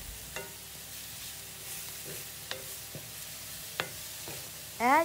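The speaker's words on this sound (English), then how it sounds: "Cook the spinach in 1 to 2 minutes in high heat" Chopped spinach cooking in a pan over high heat, a soft steady sizzle with a few sharp scraping strokes of a spoon, then a louder stir near the end, close and moderately loud with no talking.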